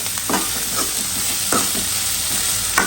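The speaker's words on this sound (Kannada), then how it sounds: "ಸೊ ಈ ಥರ ತರಕಾರಿನ ನೀಟಾಗಿ ಫ್ರೈ ಮಾಡ್ಕೊಳ್ಳಿ." Vegetables fry in a hot pan for a red chilli and white sauce pasta, giving a steady close-up sizzle broken by repeated scraping stirs.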